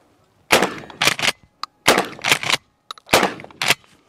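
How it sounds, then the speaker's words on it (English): A Mossberg 500/590 pump-action shotgun fires outdoors: loud, sharp blasts come in quick clusters, each followed by short echoing tails, with brief clicks between them and no voices. "To fire the shotgun, flip it off safe and pull the trigger."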